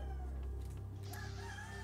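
Roosters crowing over a steady low hum, the harmonic calls rising and falling through a couple of seconds, fairly close and loud, with no talking.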